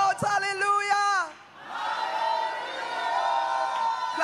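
A church congregation at a Pentab Hellshire missions convention shouts hallelujah together. A strong, tonal group shout comes first, then breaks off and gives way to a sustained wash of mixed cheering voices.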